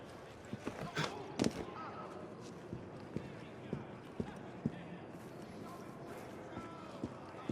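Horse hooves clip-clop steadily along in Assassin's Creed Syndicate, a run of regular, fairly close hoof strikes under game ambience, with a voice talking over them.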